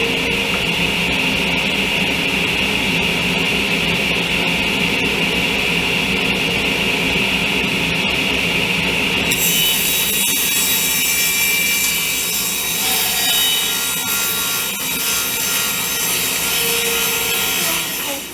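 Power saw cutting a wooden piece for kitchen cabinet repair, a loud continuous whining cut that holds steady and then shifts in tone partway through, close up, with no talking.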